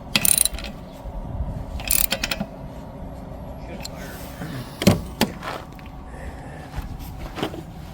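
A 5/8 socket wrench ratchet tightens the wiper arm nut on a 2017 Ford Escape, making scattered short clicking bursts, with sharper clusters near the start, around two seconds and near five seconds, over a low background hum.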